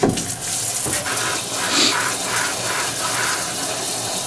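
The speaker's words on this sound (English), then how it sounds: "run some water down through here" Water runs steadily through a Frankford Arsenal tumbler rinsing brass cases, a close, loud gushing stream with a faint rattle at the start and no speech.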